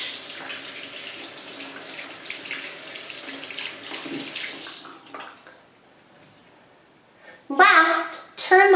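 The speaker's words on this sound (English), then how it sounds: "turn the water back on and rinse your hands" Tap water runs steadily into a sink for several seconds while someone rinses their hands, then cuts off into near quiet before a voice briefly speaks at the end.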